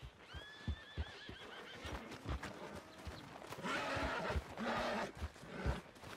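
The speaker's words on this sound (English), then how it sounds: "Need a hand with that horse?" A horse in Red Dead Redemption 2 gives two high whinnies early on, followed by clip-clopping hooves and background game ambience, with a later burst of louder rustling noise.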